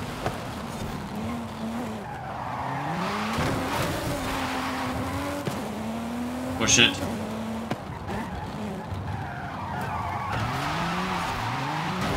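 Race car tires skidding and squealing in Forza Horizon 5, with rising and falling tire screeches over a revving engine during sharp turns, loud and close, while someone talks over it.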